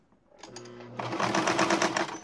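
A sewing machine stitches fabric onto a foam cover: a few short motor bursts start it, then a steady, loud, fast whirring run of stitching close by, with no voices.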